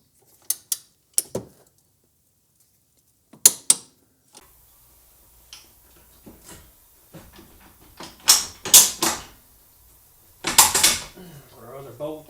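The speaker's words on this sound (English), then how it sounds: "I'm going to torque that to 25 foot-pounds with a 12 millimeter" Metallic clicks and ratcheting from a 12 mm socket on a torque wrench tightening a shock bolt on a 2020–2023 Subaru Outback, in sparse irregular bursts with quiet gaps, plus a few soft scrapes and low voice sounds.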